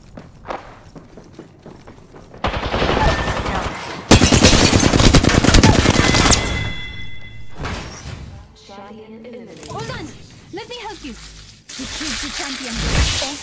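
Apex Legends gunfire comes in long, loud, dense automatic bursts with footsteps and clanks between them, and a voice talks over part of the action.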